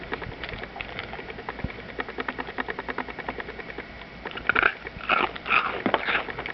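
Crunchy Berry Crackles cereal being chewed up close, a dense run of crisp bites and crackles with louder crunching toward the end, with no voices.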